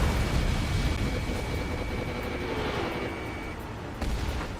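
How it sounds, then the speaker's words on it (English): Missile launch in the jet combat game Ace Combat 7: a loud roaring whoosh of rocket exhaust over steady jet engine noise, fading gradually with a sharp thump near the end. "Missile launched."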